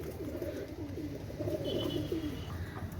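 Male Teddy 128 and Oman Teddy pigeons give low, throaty, rolling coos that overlap and repeat continuously. The calls are nearby and moderately loud against soft background noise, with no talking.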